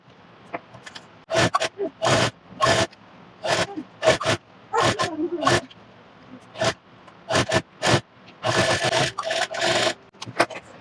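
A sewing machine stitching a blouse neckline runs in short loud whirring bursts separated by brief pauses, close and alone.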